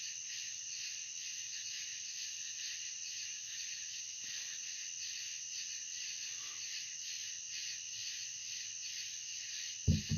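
Tree frogs calling at night beside a camper, a dense, steady high chorus of trilling calls running unbroken throughout, with a brief louder knock right at the end.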